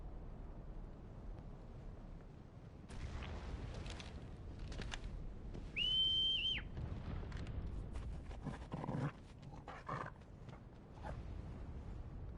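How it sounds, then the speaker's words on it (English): A single whistle sounds in Final Fantasy XVI, a short, clear, rising tone partway through. It stands out against rumbling ambience, creaks and clatter, with no speech. "For a second I thought he was whistling for Ambrosia."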